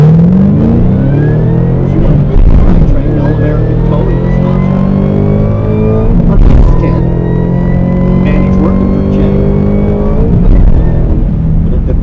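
2013 Shelby Mustang racing down a drag strip: a loud, sustained engine roar with rising gear pulls and revving, other vehicle noise mixed in, while an announcer speaks over a loudspeaker.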